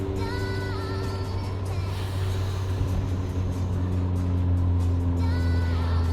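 A 10th-generation Honda Civic Si engine pulls hard in second gear, heard as a loud, steady drone from inside the car with no talking.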